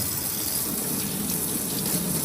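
Water running over a removed shower screen from a coffee machine's brew group as it is rinsed: a steady, even gush of flowing water, close and continuous with no voices.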